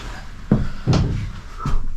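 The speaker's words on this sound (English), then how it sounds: "And a shut door. Will it open?" An old wooden door in a historic house at an open-air museum opens with a couple of knocks and a brief creaking scrape, loud and close, followed by another bump.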